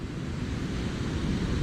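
Sea waves roll onto a beach in Turkey, a continuous low rumbling wash of surf mixed with wind buffeting the microphone, with no voices present.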